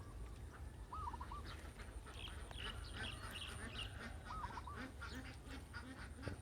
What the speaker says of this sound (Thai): เสียงเป็ดครับเสียงเป็ด